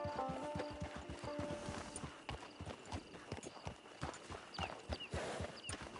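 Horse hooves clip-clop in a steady walking rhythm in a PS4 video game, fairly close and continuous, with a brief whinny-like tone and light ambient background.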